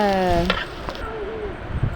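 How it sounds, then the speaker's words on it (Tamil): Chillies, shallots, tomato, coconut and garlic sauté in oil for a fish curry, giving a soft steady sizzle with a few stirring scrapes and clinks; a brief tonal whine sounds at the start. "தேங்காய், பூண்டு இதெல்லாம் போட்டு எண்ணெய் விட்டு நல்லா வதக்கி விட்டுக்கிட்டாங்க"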